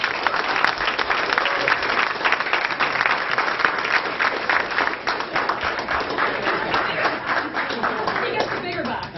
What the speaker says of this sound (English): put your hands together and give a hearty applause